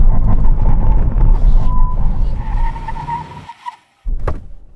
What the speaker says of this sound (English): Brake test. From 60 miles an hour, a decent number is 35 meters.